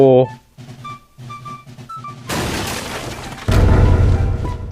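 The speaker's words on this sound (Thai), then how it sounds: "เมื่อบ้านที่เก็บดินปืนระเบิด" A gunpowder house in a video game explodes with a crashing boom and rumbling debris after quieter game music tones, followed by a second heavy blast.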